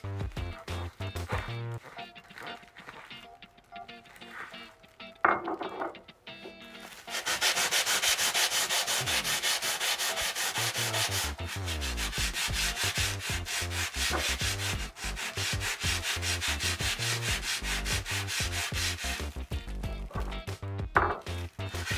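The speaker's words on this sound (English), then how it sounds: "I'm gonna use the same mixture but just try to scrub it differently" A Scrub Daddy scour sponge with a baking soda mixture scrubs tile grout in steady, close, gritty back-and-forth rubbing. The scrubbing starts after a few quiet seconds and continues loudly to the end.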